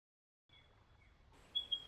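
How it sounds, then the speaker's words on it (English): A spotted pardalote calls in a forest, with faint, high, thin piping notes that are distant and sparse, the last two slightly louder, over a quiet woodland background. "Can you hear that spotted pardalope in the background?"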